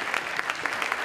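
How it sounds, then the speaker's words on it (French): Steady applause from a room full of people, dense and continuous clapping with no pauses, moderately loud throughout. "Je pense que vous pouvez les applaudir également."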